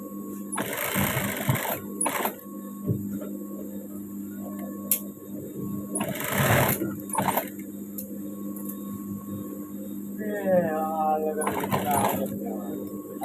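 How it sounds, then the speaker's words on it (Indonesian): An electric sewing machine runs in bursts while stitching a uniform shirt, its steady whirring rising and stopping several times, close and fairly loud, with some talk in the background. "Kita jahit yang bagian bajunya dengan arah berlawanan."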